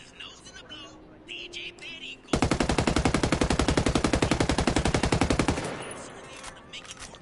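A sustained burst of rapid automatic gunfire in Ghost Recon Wildlands, loud and evenly spaced for about three seconds, preceded by quiet game ambience and fading into a short tail.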